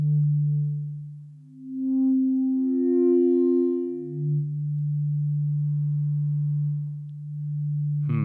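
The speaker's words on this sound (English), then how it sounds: "Oh, I turned this to a sine." A pure, smooth synthesizer sine wave tone holds steady, sliding up in pitch then back down, with a brief click at the very end.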